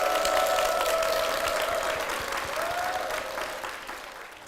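A church congregation at Dongtan Zion Church claps in blessing, a full, steady applause with a faint sustained tone beneath, slowly fading toward the end.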